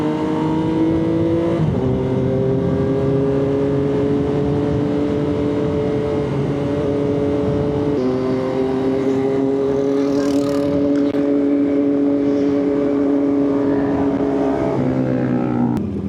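Triumph 675SR motorcycle engine droning steadily under a rider at speed, pitch climbing through each gear, then dropping with crisp quickshifter upshifts at around two, eight and fifteen seconds, loud and continuous with wind rush.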